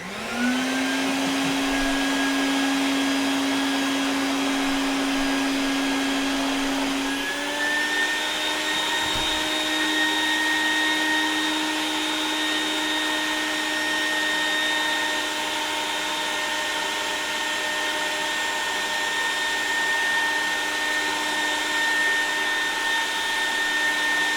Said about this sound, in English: Turn your vacuum on.